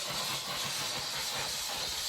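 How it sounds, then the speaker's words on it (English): A Shark Steam Pocket Mop steams a stuck spot on a floor, giving a faint, continuous hiss with a soft low rumble underneath, steady throughout and free of speech. "I'm super happy with the steam mop"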